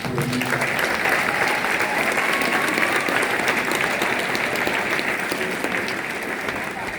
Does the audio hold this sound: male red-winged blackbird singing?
no